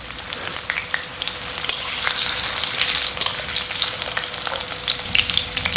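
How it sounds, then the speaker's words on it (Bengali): Potatoes fry in mustard oil in a wok for a village-style Kadaknath chicken curry, giving a loud, dense crackling sizzle with frequent sharp pops and stirring scrapes throughout. "প্রথমে আলুগুলোকে ভেজে নেব। তার জন্য আমি এখানে সর্ষের তেল ইউজ করছি।"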